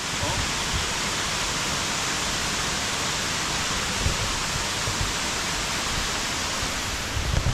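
Shivapuri waterfall roars with a dense, continuous rush of falling water, loud and close, filling the whole stretch without break or audible voices.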